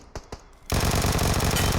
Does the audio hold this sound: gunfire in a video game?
yes